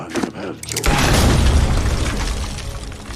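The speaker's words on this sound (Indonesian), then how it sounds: "kemudian menembak dinamit tersebut" A dynamite stick is shot and explodes in an action film, a sharp burst near the start followed by a loud, sustained rumbling roar with debris that slowly fades, with no talk over it.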